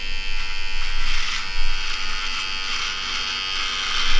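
An electric beard clipper finisher runs steadily at close range, a bright continuous buzz with slight shifts in pitch and loudness as it works, with no talking over it.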